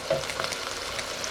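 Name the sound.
chicken sausage burger patties frying in hot oil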